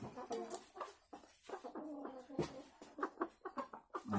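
Sumatran red junglefowl making soft clucking and murmuring calls near a nest with an egg, a string of short quiet notes recorded close on a phone against faint background noise.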